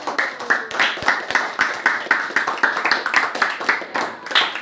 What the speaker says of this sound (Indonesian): Jadi sekarang kita kasih tepuk tangan untuk kelompok 1.